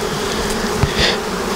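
Honey bees buzz close by at an apiary during a honey harvest, a steady dense hum with individual bees droning past the microphone.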